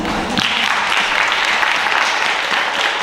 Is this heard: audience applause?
yes